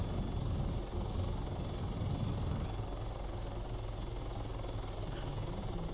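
A video game helicopter drones steadily throughout with a dense, continuous rotor and engine rumble, fairly loud and unchanging, with no voices over it.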